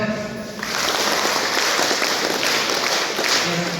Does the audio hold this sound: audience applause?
yes